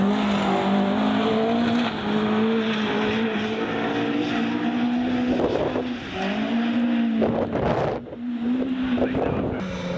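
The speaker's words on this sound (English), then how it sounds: "The car was barely in a straight line, the back wagging its way through the forest stages" A historic rally car on a Welsh forest stage, its engine rising and falling through gear changes, loud and close with brief bursts of gravel and wind noise.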